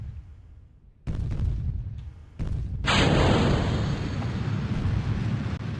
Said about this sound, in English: I'm hearing explosions, which isn't good, but it doesn't look like it's affected my rocket at all